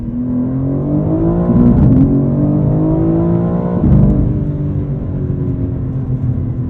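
A BMW M4 CSL engine revs hard to its 7,200 RPM redline, climbing in pitch, dropping briefly at manual shifts, then winding up again; loud, close, with no talking.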